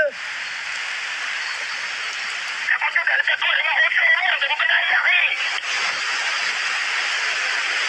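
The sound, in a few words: heavy rain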